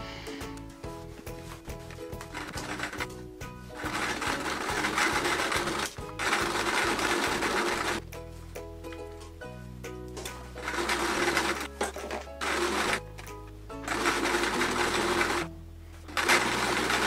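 A sewing machine stitches the side panels of a Peter Rabbit patchwork quilt, running in steady rhythmic bursts with short pauses between seams, close and fairly loud with no talking.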